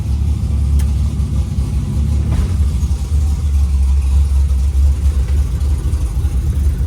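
Carbureted car out for a cruise around the block after an ignition timing adjustment, its engine droning steadily with a deep low rumble, continuous and fairly loud with no talk.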